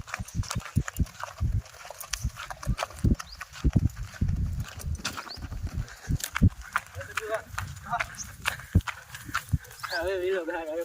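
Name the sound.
mare walking, hoof clip-clop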